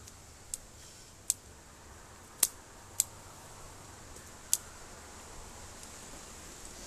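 Scissors snip bald cypress bonsai foliage in five sharp, isolated clicks spaced irregularly over quiet background hiss, close and crisp with no talking.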